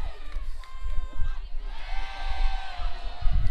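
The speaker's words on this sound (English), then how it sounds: "Very strong and loud crowd in here for both teams." A loud crowd cheers and shouts at a softball grand final between the NSW Firestars and Queensland Heat, a continuous dense roar building after a brief dip.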